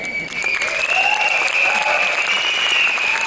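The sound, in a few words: audience applause at award ceremony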